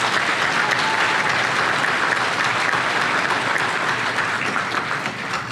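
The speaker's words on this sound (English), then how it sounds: "Give them a round of applause, please." A banquet audience at a county Republican Party Lincoln Reagan Dinner gives a round of applause for county office holders, including the sheriff. The clapping is steady, dense and sustained throughout, with no talk over it.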